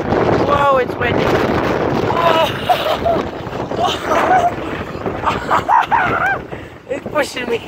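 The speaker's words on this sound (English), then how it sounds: "Whoa, it's windy." Strong wind buffets the microphone outdoors in loud, gusty roars that rise and fall, while a person talks over the blustering noise.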